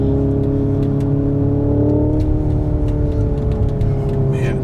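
A 2025 Hyundai IONIQ 5 N electric performance car driving with the throttle blipped, a loud, steady synthetic engine drone with shifting tones heard from inside the cabin, continuous throughout.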